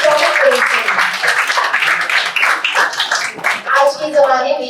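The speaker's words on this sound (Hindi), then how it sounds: "सो जोरदार तालियां हो जाए इन 24 बच्चों के लिए।" Audience applauding students at a felicitation ceremony in a hall, a sustained burst of dense clapping throughout with voices and a child's speech mixed over it.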